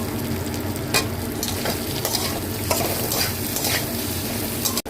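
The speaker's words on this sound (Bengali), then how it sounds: "ডালটা ভেজে নেব, ডালের সঙ্গেই আমি আলুটা ভেজে নিচ্ছি" Mung dal and potatoes fry in a pan with a loud, continuous sizzle while repeated stirring strokes scrape and knock through it. A sharp clack sounds at the very end.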